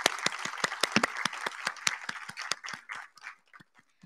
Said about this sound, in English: let's clap for the people that support us